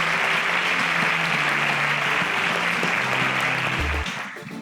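Loud, dense audience applause rings out as contestants leave the stage on the InterswitchSPAK Nigeria 4.0 quiz show, with music beneath; the clapping holds strong for about four seconds, then drops away quickly.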